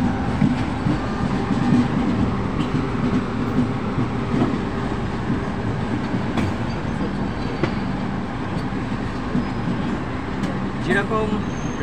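The Mumbai Howrah Mail passenger train runs over a diamond rail crossing where two lines cross, heard from on board as a loud, continuous rumble with wheel clatter and rattling, while people talk in the background.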